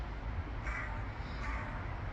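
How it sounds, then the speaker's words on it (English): Crows caw overhead near seaside cliffs, two faint harsh calls rising above steady wind and outdoor rumble, with no one talking. "The birds are up there going, go away, you've been weird."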